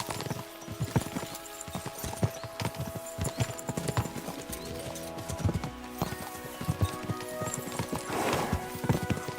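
Horse hooves clip-clop at a steady gallop in Kingdom Come: Deliverance II, loud and continuous throughout, with a brief whinny and faint background game sounds.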